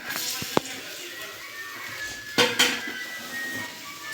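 A metal cooking pot set down and handled for making okra masala gravy, a few sharp clanks and clinks against a quiet kitchen background.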